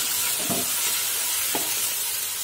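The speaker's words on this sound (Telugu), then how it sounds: "ఇప్పుడు ఈ మసాలా పేస్ట్ దీనిలో వేసుకొని పచ్చి వాసన పోయే వరకు వేయించుకోవాలి" Masala paste fries in hot tempering oil for a fish curry, a steady loud hissing sizzle with a few soft scraping stirs of a spoon against the pan, close and without talk.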